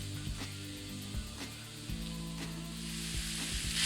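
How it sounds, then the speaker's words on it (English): Thinly sliced onion and minced garlic sizzle in a frying pan with a steady, close crackling hiss, punctuated by repeated scraping and stirring strokes and a low background hum. "Add half an onion, thinly sliced, and 3 cloves of minced garlic."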